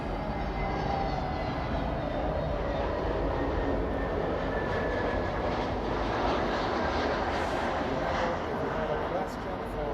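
A large airplane at a Los Angeles airfield gives a loud, steady jet roar with a slowly shifting whine, continuous for the full length, with a voice speaking over it.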